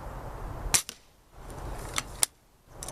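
An airsoft gun fires three sharp, snappy shots at a target, spaced unevenly and each followed by a quick faint tick of impact, set against a low, quiet outdoor hum.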